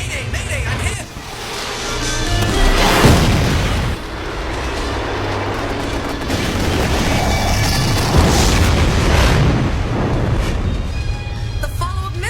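Cartoon missile strikes blasting an enemy warship, a dense barrage of loud booms and rumbling explosions that runs nonstop with layered bursts and roaring debris noise.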